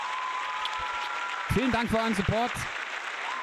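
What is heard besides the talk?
applause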